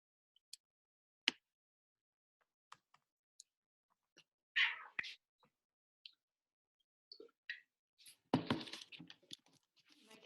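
A cat meowing indoors: a few short, faint meows and small clicks scattered across otherwise quiet stretches, with a louder rustling burst near the end.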